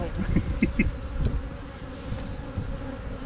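Swarm of agitated honeybees during a spring hive split, a dense, continuous, close buzzing drone with a few individual bees zipping past, no talk.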